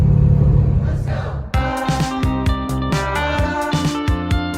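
Subaru WRX/STI engine fitted with a Mishimoto cold air intake, revving hard in second gear: loud, close rumbling acceleration with a deep throaty note, a brief dip at a gear change, then a strong pulsing climb.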